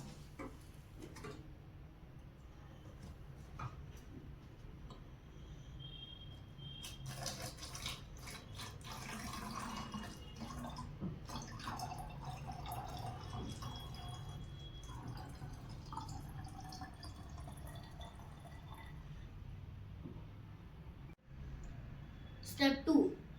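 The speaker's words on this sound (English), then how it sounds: "Block the hole and fill water in plastic bottle." Tap water trickles steadily into a plastic bottle whose hole is blocked, a soft running and dripping sound heard mostly under a person's continuous talk.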